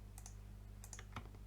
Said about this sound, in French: CTRL X pour couper.